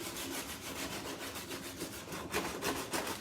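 A hand-held piece of sandpaper rubs back and forth over a painted wooden photo frame in quick rhythmic strokes, close and soft, with no talking.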